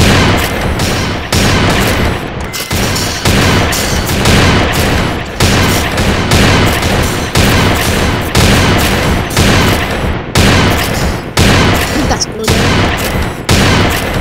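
Shotgun fire in a video game, loud booming blasts in rapid repeated bursts with brief gaps between volleys, dense and continuous for most of the stretch.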